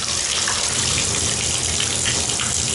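Water pours from a tap in a home under renovation, a steady, close, unbroken rushing hiss with no talk.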